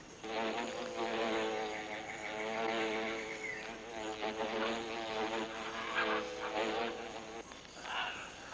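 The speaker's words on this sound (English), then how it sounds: "they cool their brood by rapidly vibrating their wings to create a current of air" Tropical rainforest wasps fan their wings on the nest, making a steady, layered droning buzz that holds for several seconds at moderate level, faint and even, with no voices over it.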